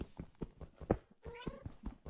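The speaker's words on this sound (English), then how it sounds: "Was that a cat? That better be a cat." A cat in the video game Minecraft meows repeatedly, short soft calls in an irregular rhythm, quiet and close, with no talk.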